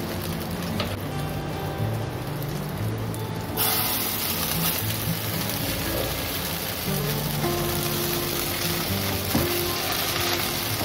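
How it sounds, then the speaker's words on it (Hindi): Soya kebabs shallow fry in a little oil in a pan over a low flame, giving a steady, close sizzle that grows louder and brighter partway through, with faint tonal hum and occasional soft clinks beneath. "हम इसे शैलो फ्राई करने वाले हैं, इसलिए थोड़ा ही तेल ले रही हूँ।"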